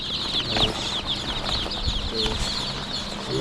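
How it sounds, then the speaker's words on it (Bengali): A crowd of native (deshi) chicken chicks peep constantly in dense, high chirps across a steady background whir of a fan, with occasional soft flutters and scratching nearby. "দেখেন কতগুলো দেশি মুরগি বাচ্চা একদম বিছাই রাখছি।"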